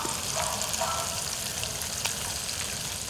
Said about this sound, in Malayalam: ചിക്കൻ എടുത്തിട്ട് അതേ വെളിച്ചെണ്ണയൊക്കെ ഇട്ട് ഇങ്ങനെ പൊരിച്ച് പൊരിച്ചങ്ങട് എടുക്കുക